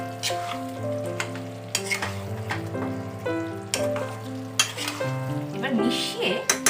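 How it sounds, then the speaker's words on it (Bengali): Fried potato and papaya being stirred into a Bengali red chicken curry, with a steady sizzle and repeated spoon scrapes and knocks in the pot, close and fairly loud, while tonal background music plays along. "এবার ভালো করে আলু পেঁপেটাকেও মেশাবো"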